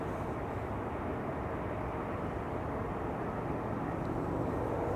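Airliner departing from runway 24 at Schiphol Airport, bound for Philadelphia: a steady, broad jet engine roar holding at an even loudness throughout, distant and continuous with no voices.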